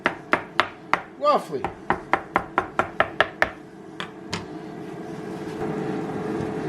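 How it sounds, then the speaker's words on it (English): A knife chops smoked eggplant flesh on a board in a quick, steady run of about a dozen sharp close strikes, then a few scattered cuts before a low background hum takes over, with faint talk. "What I'm going to do is just chop this up,"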